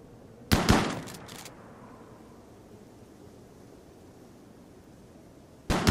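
Gunfire in the Rimworld video game, Star Wars Tatooine survival setting: a loud, short burst of several rapid shots, then near silence with low noise, and another sharp shot cut off at the very end.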